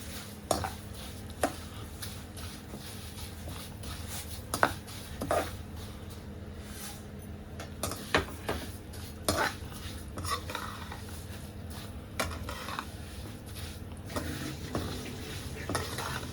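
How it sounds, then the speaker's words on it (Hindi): Vermicelli (seviyan) frying in hot oil in a kadhai at home, a soft steady sizzle with repeated metallic scrapes and clinks of a spoon stirring against the pan, fairly quiet and close. "अम्मी ने तेल गरम करके सेवियों को डाल दिया कढ़ाई में और इसे फ्राई करने के लिए"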